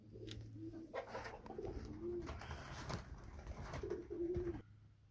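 Pigeons coo repeatedly in low, rolling phrases, fairly close and steady over a faint background hum, with no talking.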